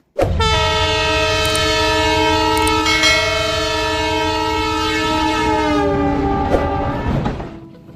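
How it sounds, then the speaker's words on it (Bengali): Banalata Express, a Dhaka–Rajshahi intercity train with LHB coaches, sounds a long, loud, steady horn blast for about seven seconds over rolling wheel rumble, the horn fading out near the end. "বনলতা এক্সপ্রেস ঢাকা রাজশাহীর মধ্যে চলাচলকারী আন্তনগর"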